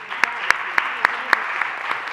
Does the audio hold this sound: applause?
yes